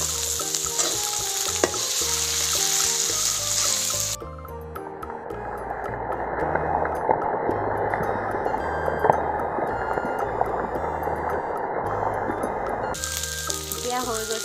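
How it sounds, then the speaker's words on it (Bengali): Oil sizzles loudly in a pan as goat tripe fries, a steady crackling hiss with occasional stirring scrapes, continuous throughout with no talk. "এতিয়া হৈ গৈছে ফেটফেটকে ফুটিছে শুনিছেনে"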